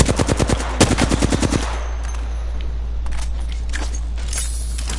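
Machine gun fire in Apex Legends: a rapid burst of about a dozen evenly spaced shots, loud and close, followed by softer scattered gunfire and game sounds.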